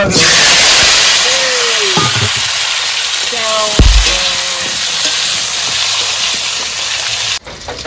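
Potatoes frying in hot oil on a lit stove for a rainy-day khichuri meal, a loud continuous sizzle and hiss close by, with faint tonal sounds mixed in.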